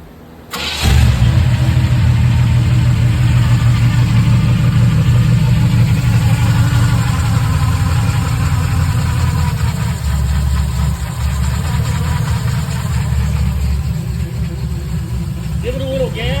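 A 1976 Pontiac Grand LeMans 350 V8 fitted with a timing gear drive cranks and fires, then settles into a loud, steady, close idle with a rough, rumbling tone that holds for the rest of the stretch.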